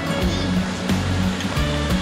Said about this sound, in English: What are we gonna check out? The waterfall.